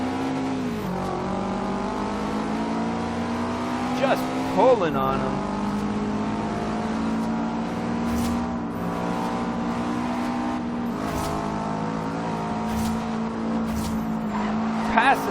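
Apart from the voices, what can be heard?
Subaru STI car racing in video game Forza Horizon 2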